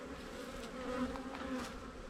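Honey bees buzz steadily at an open hive, a dense close hum with faint rising and falling swells, heard alone without talk.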